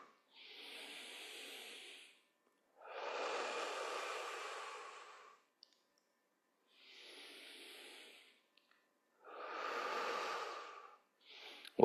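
Slow, audible breathing during a seated chair yoga session: four long airy breaths, alternating inhales and exhales, each lasting about two seconds with quiet pauses between, close and soft with no talking.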